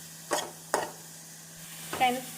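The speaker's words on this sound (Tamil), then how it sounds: "வெங்காயம் பச்சை மிளகாய் நாம் வதக்கி முட்டையில் சேர்த்து விடலாம்" Onions and green chillies sautéing in a pan for a ladle omelette, three short stirring scrapes with a soft sizzle, close by and spaced unevenly over a quiet background.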